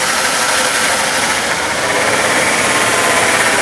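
Ford engine idling with an uneven, fluttering idle, a steady loud mechanical drone with slight rough pulsing throughout and no voices.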